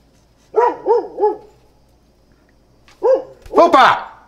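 Dogs barking indoors near a delivery arrival: three quick barks, a pause, then another burst of two or three louder, close barks.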